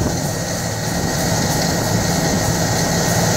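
An old belt-driven hammer mill grinds cattle feed with a loud, steady roar and whirring drone, close and continuous without a break.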